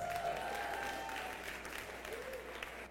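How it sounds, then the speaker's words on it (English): Audience applause for Make-A-Match space winners, a steady wash of clapping from a large room that runs through the whole stretch, fairly faint and even, with a faint tone drifting through it. "Let's give them a round of applause."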